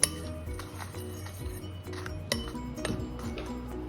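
Metal spoon scraping and clinking against a cooking pan while spices and whole red chili are stirred for a Bengali-style tomato chutney, irregular close taps and scrapes with no talk.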